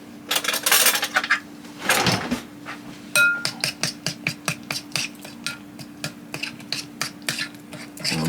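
A spoon mixes Sweet Baby Ray's barbecue sauce and Worcestershire sauce in a bowl, clinking against the sides in quick, rhythmic strokes close by, with a scraping stir early on.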